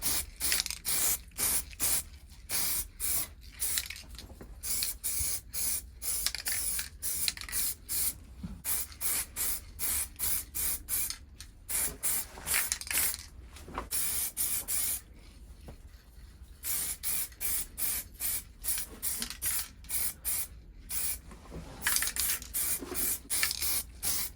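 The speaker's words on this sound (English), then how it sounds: "I'll give it a couple of light coats, just build it up." Aerosol paint is sprayed in light coats onto motorcycle parts from a Honda VFR400 NC30 restoration, heard as rapid repeated close hissing bursts with short gaps and one longer pause, and no talking.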